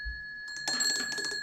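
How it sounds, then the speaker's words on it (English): The small ringer bell of an old British Army field telephone gives a short, bright metallic trill, thin at first and then a faster rattling ring, close up and heard alone. "Yeah, and it's got the little ringer in between."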